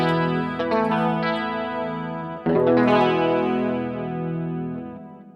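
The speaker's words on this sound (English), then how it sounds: "I'll go cleaner and just show you the chorus." Clean Telecaster electric guitar on its bridge pickup through a chorus effect, shimmering and slightly wavering, with two strummed chords ringing out and decaying, close and clear, with no talking.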